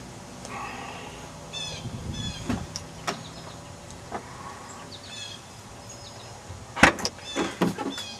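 A Mercedes-Benz E320 trunk lock actuated from the door switch, with several short mechanical clicks and whirs scattered across the clip, ending in a louder cluster of sharp clunks near the end.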